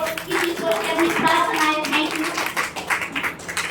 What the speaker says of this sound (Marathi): मॅडम साठी जोरदार टाळ्या मित्रांनो जोरदार